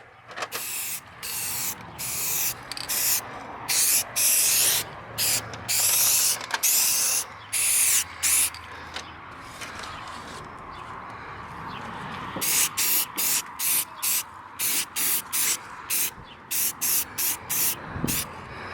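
An aerosol can sprays flat black paint inside a car's engine compartment in repeated close hissing bursts, some short and some long, with short gaps between them and no talk.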